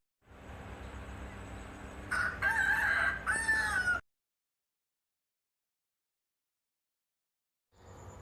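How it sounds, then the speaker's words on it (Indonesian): A rooster crows one long, loud cock-a-doodle-doo over a constant background hiss, followed by a stretch of silence before faint noise returns. "Hayam jago kongkorong."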